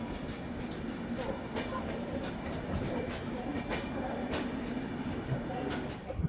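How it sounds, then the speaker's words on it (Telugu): A passenger train pulls into platform 1 at Tirupati railway station, a steady broadband rumble of rolling coaches with faint clicks and brief squeals layered over it, loud and continuous throughout. "1వ నెంబర్ ప్లాట్ఫామ్లో ట్రైన్ అనేది పెడుతున్నాడు"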